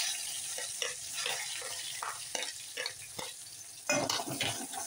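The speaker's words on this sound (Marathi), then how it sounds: "कांदा छान परतून घेऊया" Chopped onion fries in hot oil and melted Dalda for a mung-and-rice khichdi, a steady close sizzle with repeated spoon stirring and scraping against the pan throughout.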